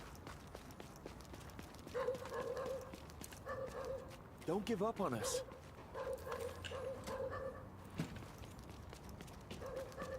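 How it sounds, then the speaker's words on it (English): Dogs bark in The Division 2 video game, with short yips and barks repeating at moderate distance amid game background noise while a person talks over them. "Also, why are there so many dogs here?"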